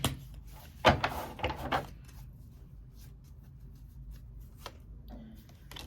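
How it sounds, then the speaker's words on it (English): Tarot cards being shuffled by hand: a short, busy flurry of papery riffles and taps in the first couple of seconds, then mostly quiet with a few faint handling sounds. "One more shuffle."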